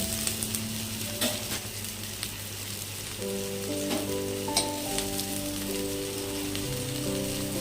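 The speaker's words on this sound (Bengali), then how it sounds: "কাঁকরোল ভাজা প্রায় হয়ে এসছে, আর অল্প হবে।" Spiny gourd (kakrol) slices frying in hot oil give a steady, close sizzle with soft crackles throughout, with a faint tonal hum running beneath.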